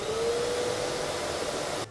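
A workshop vacuum linked to a Scheppach Deco-XL 125 W scroll saw runs with a steady whirring hum and a faint rising tone, then cuts off abruptly at the end; no one speaks.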